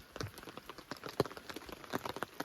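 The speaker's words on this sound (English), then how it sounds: "The rain started coming down heavy on us, so we got a little soaked." Heavy rain falling on a wilderness campsite at a lake in Algonquin, with irregular drops tapping on nearby surfaces in a soft, scattered patter.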